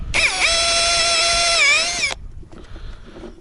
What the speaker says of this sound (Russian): делаем отверстие.